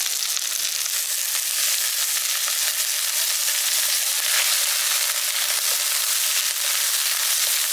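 Chopped spring onions sizzle steadily in a hot pan for a village-style chili mushroom dish, a continuous close crackle and hiss with no talking.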